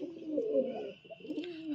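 Pigeons, including a red one, make soft, close throaty cooing in a brief continuous murmur, fairly faint, with no voices.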